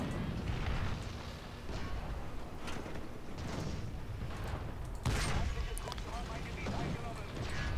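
Tank cannon fire from a PzKpfw IV in War Thunder ground battles, with loud booming blasts against a dense roar of battle noise, one sharp report standing out near the middle, while someone talks over it.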